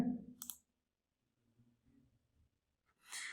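A single sharp computer mouse click on an OK button, heard near and clear at the start, followed by faint low desk noise and another brief burst of handling sound near the end.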